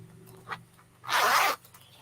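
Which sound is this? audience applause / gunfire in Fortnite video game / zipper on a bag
zipper on a bag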